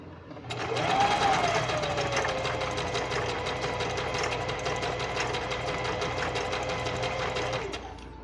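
A sewing machine runs steadily for about seven seconds, stitching a seam at an angle with a reverse stitch to lock it, the motor whirring loud and close with a rapid needle clatter before stopping.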